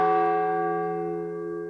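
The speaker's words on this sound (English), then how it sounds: "The bell invites me." Single struck bell tolling as a knell in a stage performance of Macbeth, one clear ringing stroke that slowly fades away on its own.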